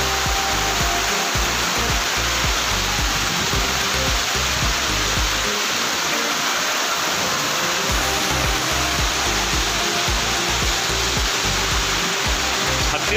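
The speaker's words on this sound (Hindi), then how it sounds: "ये हम अभी वाटरफॉल देखने आए हैं" Honhed waterfall, about 16 km from Keshkal in Chhattisgarh, pours out a continuous, loud, hissing roar of water with a buffeting low rumble, close and steady throughout.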